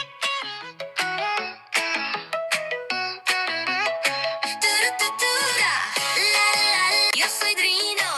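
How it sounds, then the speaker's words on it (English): A children's song about dinosaurs: bright, plucky melodic notes in a bouncy rhythm that build into a fuller, denser arrangement, loud and with no speech. "I made her a little kid song."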